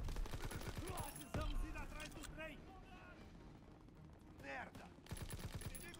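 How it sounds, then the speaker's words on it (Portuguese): Bursts of rapid gunfire from enemy soldiers in Call of Duty WW2, crackling in quick volleys at the start and again near the end, with a voice talking over the shooting. "o pessoal ali ignorou o stealth e chegou metendo tiro, chegou metendo bala"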